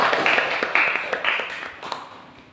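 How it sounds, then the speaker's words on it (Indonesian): Students clapping their hands in a classroom, a few loud, separate claps over about two seconds that fade as the clapping dies away. "Tepuk tangan untuk semuanya."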